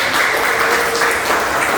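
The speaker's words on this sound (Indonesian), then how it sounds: "Jadi teman-teman boleh dikasih aplaus sekali lagi" Classmates in a classroom give a brief, steady burst of clapping, a dense patter of many hands lasting under two seconds with no talking over it.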